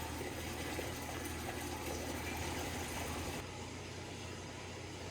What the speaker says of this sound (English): All the equipment is running in the sump.